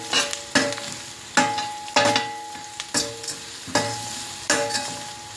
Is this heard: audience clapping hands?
no